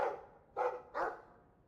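A Mabari war dog from the video game Dragon Age 2 barks three times in quick succession, close and fairly loud, with short pauses between the barks.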